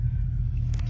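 Low, thunder-like rumble from a 2026 Dodge Charger Daytona Scat Pack four-door electric car, a steady deep drone filling a brief moment with no talk.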